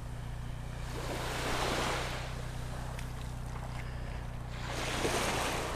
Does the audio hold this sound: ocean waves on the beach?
yes